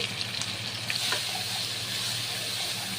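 Salt, turmeric and Kashmiri chili powder fry in a pan while being stirred, giving a steady close hiss broken by a few soft scrapes and taps early on.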